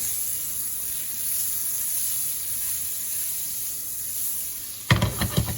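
Butter and olive oil sizzling in a hot pan, a faint steady hiss for most of the time, then a louder burst of crackling spitting near the end.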